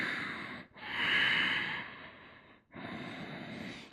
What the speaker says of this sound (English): hold here, take a couple breaths